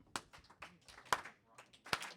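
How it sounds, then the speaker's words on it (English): Dinner guests at a rehearsal dinner begin a slow clap: three sharp, evenly spaced claps about a second apart, with voices and room murmur around them. "let's just start with a slow clap"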